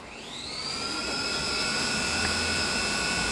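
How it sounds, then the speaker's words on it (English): Motors on a Holy Stone HS440 drone whine up to speed, a rising high-pitched buzz that settles into a steady, fairly loud hover tone with no talking. "So I'm gonna unlock the motors."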